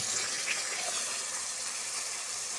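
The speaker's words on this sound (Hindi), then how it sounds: "अब हम ग्रेवी के लिए इसमें पानी शामिल कर देंगे।" Water pours steadily into a pot of aloo matar gravy, a continuous close hiss and gush of liquid with no break and no talking over it.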